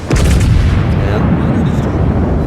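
Warship guns firing in World of Warships, several ships shooting at once: a loud, dense, rumbling barrage of booming shots blending into continuous heavy roar.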